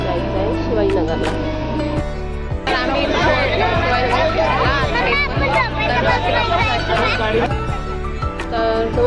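Dense crowd chatter fills a busy local train station platform on the Pune route toward Shivajinagar, a steady babble of many overlapping voices with a brief lull near the start and rumbling, clattering noise underneath throughout.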